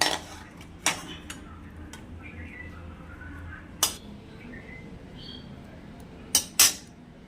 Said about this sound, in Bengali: অল্প মশলায় সুস্বাদু খাবার ঢেলে ফেলছি